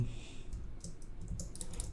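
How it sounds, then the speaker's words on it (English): Quick, light keyboard clicks tapping out short bursts of typing on a computer keyboard, close and fairly quiet with a faint room hum beneath. "So I'm just gonna type,"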